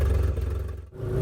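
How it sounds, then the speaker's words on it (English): A 1970s Reliant Robin Jubilee engine runs close by, freshly started, with a steady, buzzy mid-pitched hum and a slight dip near the end. "starting the Reliant up for the first time"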